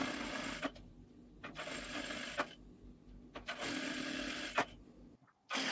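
A sewing machine stitches a blouse in several short bursts, each a second or so of close, steady whirring separated by brief quiet pauses.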